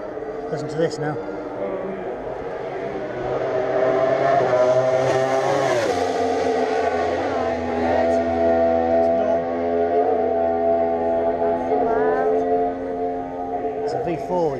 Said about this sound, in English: It's a V4, you see, that's why it's the Ducati.